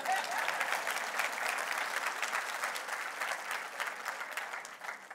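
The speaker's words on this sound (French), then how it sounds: "il y a quelqu'un qui va applaudir" Applause from a church audience during a sermon: steady, dense clapping from many hands, heard from some distance and fairly faint, continuing without a break.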